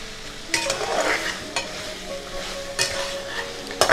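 Chicken masala frying and sizzling in a pan as it is stirred, with a steady hiss broken by a few louder scraping strokes of the spoon against the pan, close up and with no talking.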